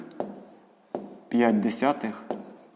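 Pen or pencil writing numbers by hand during a sixth-grade math proportion exercise, a few soft scratchy strokes between and under a voice speaking close by.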